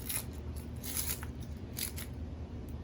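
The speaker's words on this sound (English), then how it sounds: "I always trim them by cutting the top off, then cutting the bottom off, and then peeling it." Knife trimming onions, topping and tailing them, heard as a series of faint crisp crunching cuts in quick clusters against a soft background hum.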